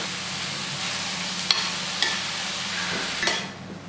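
Onions and tomatoes sauté in a pan for a crab curry, a steady close sizzle running throughout with a few sharp clicks of a spoon stirring against the pan, with no voices.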